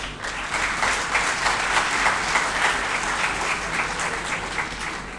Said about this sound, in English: I think you need to clap for yourselves.